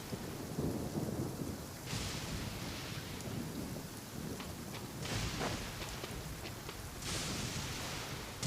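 In Genshin Impact's Inazuma, a thunderstorm rumbles over steady rain: a heavy roll of thunder at the start, then sharp cracks and further rumbles rising out of the constant hiss of downpour.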